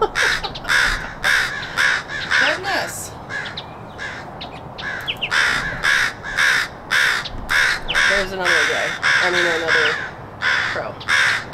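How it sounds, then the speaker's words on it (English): Several crows cawing outdoors, loud repeated harsh caws in uneven bursts, fairly close, with soft background birdsong. "We have 3 crows, there's one right there."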